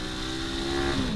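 A 500 GSE motorcycle accelerates at full power on a quiet winter mountain road, its steady engine drone rising slightly in pitch over about a second, close and fairly loud with no talk.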